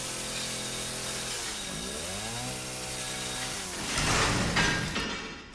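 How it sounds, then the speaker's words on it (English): A chainsaw in the Resident Evil 7 horror game runs with a loud buzzing engine that drops and rises in pitch as it revs, then surges into a harsher, louder burst near the end, with no talking over it. "Am I going to lose the chainsaw?"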